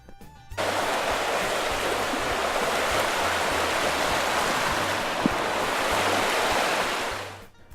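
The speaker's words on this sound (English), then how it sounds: "The path then follows along the brook, and you get a nice little breeze off it." A brook flows steadily beside a hiking trail near MacDowell Dam in Peterborough, New Hampshire, giving a continuous close, even rush of water with no voices.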